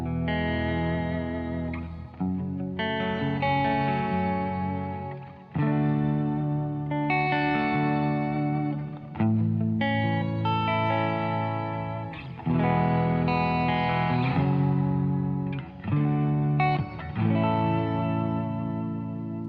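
A BigSky reverb pedal set to a shimmer effect, with sustained chords swelling into a bright, pitch-shifted wash that rings continuously for about twenty seconds, with brief dips between phrases and no talking.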